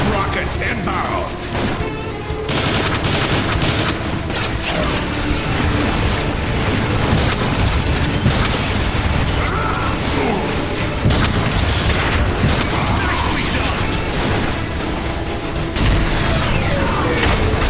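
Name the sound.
Decepticon rocket explosions in Transformers: War for Cybertron video game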